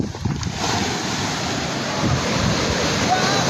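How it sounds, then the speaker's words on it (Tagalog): Large ocean waves break near a fishing boat at sea, a dense continuous rush of surf mixed with wind buffeting the microphone, loud and steady throughout. "Ang lalaki ng alon."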